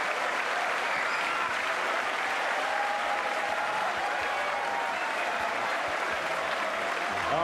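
A crowd at the 2006 World Pool Championship final applauds a pool player, a dense and steady roar of clapping that holds at full strength throughout.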